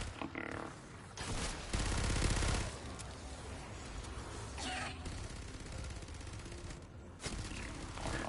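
An airstrike in the Fortnite video game unleashes loud bursts of rapid gunfire and heavy explosions, with a dense, booming barrage peaking early before a steady rumble of combat continues.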